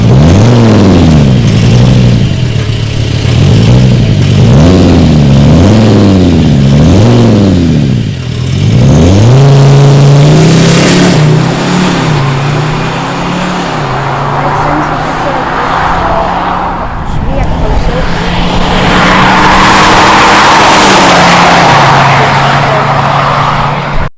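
A V6 car engine revs repeatedly in quick rising and falling bursts, then settles into a steadier drone with gear changes; loud and close.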